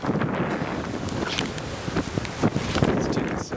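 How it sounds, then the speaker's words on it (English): Strong wind gusts buffet the microphone outdoors during a 2013 Montreal blizzard snow storm, a steady roaring rush with sharper bursts and a few faint voice sounds. "Oh, the wind is horrific."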